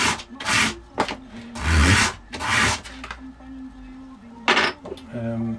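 Sandpaper rubbing over wooden dovetailed knife scales in several separate bursts of rough scratchy strokes, close by, with short pauses between passes and a faint hum underneath.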